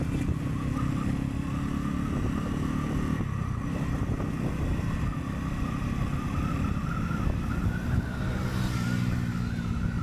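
A loaded motorcycle speeds down a slope with its engine droning loud and steady and the pitch rising slightly as it accelerates, heard up close from on board with no talk.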